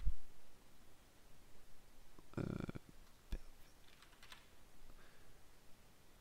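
Keys are tapped on a computer keyboard nearby, with a short cluster of quick keystrokes, a sharp click, and a few faint taps in a quiet room.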